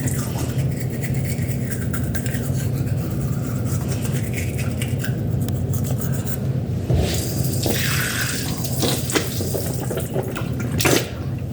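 Brushing teeth with baking soda on a toothbrush: steady close scrubbing bristle noise with wet foamy texture, broken by a brief pause and a few sharper strokes near the end.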